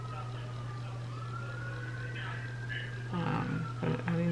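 Outdoors, a faint emergency siren sweeps slowly up and down in the distance over a steady low hum indoors, while a voice speaks over it near the end.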